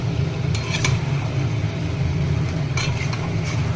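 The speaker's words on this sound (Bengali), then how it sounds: "চিকেনের কষাটাকে বসিয়েছিলাম আলু দিয়ে, একটু নাড়তে থাকবো" Chicken kosha curry with potatoes cooks in a pot under a constant low bubbling hiss, broken by a couple of short scraping stirs of a spoon against the pot; no voices.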